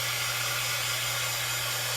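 A hair dryer or heat gun blows steadily to dry paint on a DIY pizza pan decoration, a constant close airy hiss with a low motor hum throughout, no talking.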